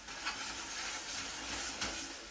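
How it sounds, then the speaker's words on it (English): Breakfast potatoes fry heavily in oil in a pan, giving a steady, close, even sizzling hiss with small crackles and no talk. "I am frying them quite heavily in oil"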